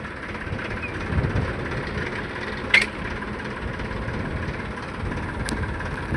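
A tractor engine idles in a steady low rumble close by during dirt unloading, with a couple of brief sharp clinks over the drone.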